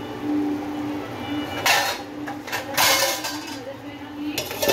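A lid is set onto a pot of simmering mutton biryani gravy, giving a few close, sharp metallic clanks and scrapes spread over several seconds.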